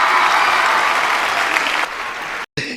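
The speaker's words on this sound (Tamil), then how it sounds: "நல்ல உள்ள கொண்ட பெரியவர்கள் கைதட்டி உற்சாகப்படுத்தி ஆரவாரம் போடுமாறு அன்போடு கேட்டுக்கொள்கிறோம்" Audience at a Pongal celebration abroad clapping and cheering in a dense, steady wave of applause that runs loud and then cuts off abruptly near the end.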